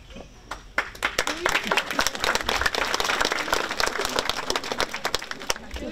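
Audience applause at a poetry reading, a dense burst of many hands clapping at close range that rises quickly and holds steady for several seconds.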